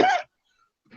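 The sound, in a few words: cough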